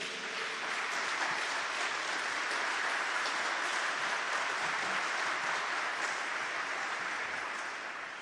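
Steady, sustained applause from an audience fills the space, a dense even wash of clapping at moderate distance that holds without pauses and fades slightly at the end.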